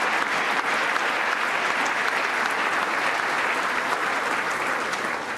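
Dense, sustained applause from a large audience rising to its feet in a legislative chamber during a State of the Union address, steady and loud throughout with no break.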